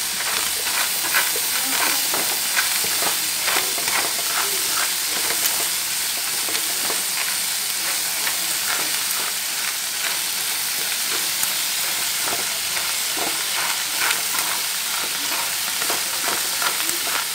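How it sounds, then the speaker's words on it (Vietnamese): Sea snails stir-fry in a hot pan, a loud continuous sizzle and hiss broken by frequent scraping stirs throughout. "sau khi mà chúng ta xào chín ốc này rồi"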